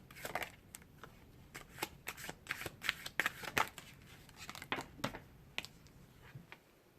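Tarot cards shuffled and drawn by hand, a quick irregular run of crisp slaps and riffling flutters that is close, fairly quiet and free of talk.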